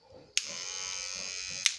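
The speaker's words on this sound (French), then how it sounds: "J'avais acheté cette petite brosse à dents électrique" Small Oral-B electric toothbrush switched on with a click, buzzing at a steady high pitch for just over a second, then clicked off; quiet and close with no talk.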